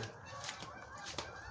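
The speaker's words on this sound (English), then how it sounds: "Honking geese." Geese honk outdoors, a few separate nasal calls rising over a steady background hum, fairly faint and distant with irregular spacing.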